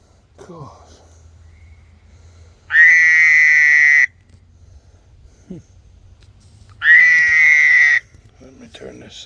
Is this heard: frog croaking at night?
yes